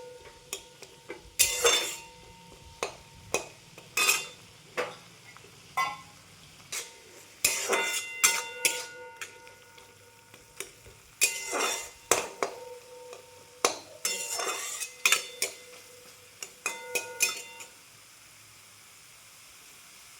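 Sesame seeds and green chili frying in a pan, with intermittent bursts of crackling and popping separated by quieter stretches, close and clear, fading out toward the end.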